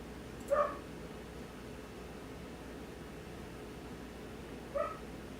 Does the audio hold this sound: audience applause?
no